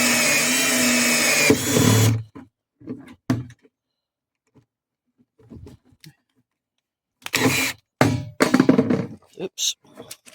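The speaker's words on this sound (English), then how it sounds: "Drill a hole out here now." A power drill bores a hole into a plastic water butt, opening with a loud steady whine of about two seconds, followed after a quiet pause by short bursts and clatter near the end.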